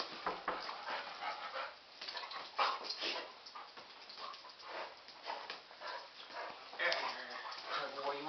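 Puppy whimpering and yipping while tugging at a stuffed toy, soft whines and small noises through a steady rustling scuffle, with a person talking over it throughout.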